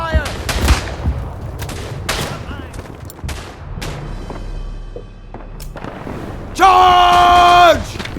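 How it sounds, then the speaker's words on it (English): Artillery fire and gunfire in the WWI shooter Verdun: repeated loud booms and cracks, distant rattling shots and a sustained whistling tone near the end, with shouted voices mixed in. "Incoming artillery fire!"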